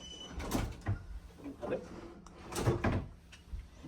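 Drawers sliding open and shut in a cruise ship cabin, several wooden rumbles and knocks spread through the clip while a person talks over them.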